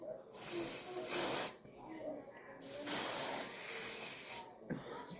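Two long hissing bursts of aerosol hair spray onto hair, each lasting about a second, with a short final puff; faint talk murmurs between them.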